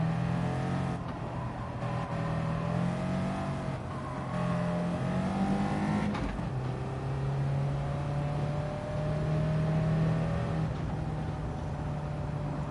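Tomahawk car in Gran Turismo 7, heard from the cockpit: a steady engine drone rising and falling with throttle and gear changes, a brief thump midway, constant and close, with no speech.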